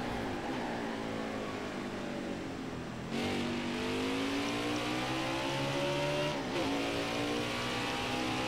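Race car engine in a racing video game at Road America, loud and continuous, revving up then dropping sharply twice as it downshifts, pitch climbing again after each drop, with no voices.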